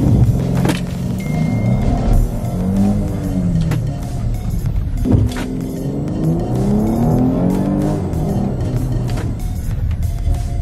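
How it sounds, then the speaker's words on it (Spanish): A Porsche Cayenne S hybrid SUV accelerates hard in Sport Plus mode, its engine note rising in two strong pulls with gear changes between them, steady and close throughout. "quiero que vean lo que jala, lo que acelera en modo Sport Plus"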